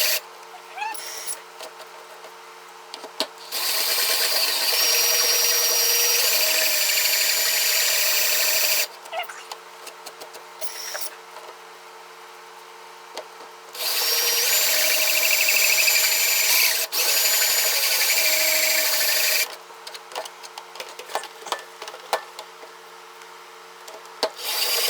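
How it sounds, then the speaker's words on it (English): Power drill boring a hole for an RV light bar switch on a Class C motorhome, two long steady whirring bursts with pauses between, close and loud, with faint handling noises in the gaps. "So we got the hole drilled"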